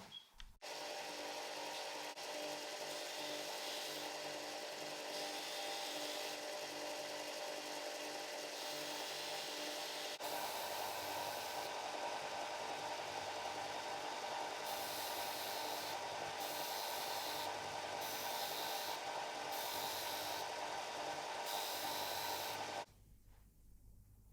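A slight bevel is ground at an angle onto the top edge of a handmade watch crystal, giving a steady, loud abrasive rasp that runs almost unbroken for about twenty seconds, with a slightly brighter pulsing stretch late on before it stops abruptly.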